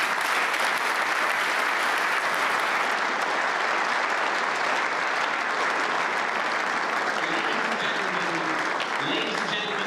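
A large conference hall audience at the Munich Security Conference claps for Chancellor Merz, sustained, even, full-room applause that carries on strongly for about ten seconds without a break.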